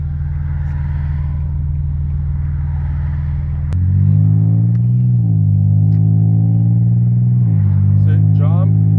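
Infiniti G35 with a transmission speed sensor fault, loud steady idle from inside the cabin that steps up with a sudden engine surge as the car lurches, then holds at a higher drone while a voice speaks.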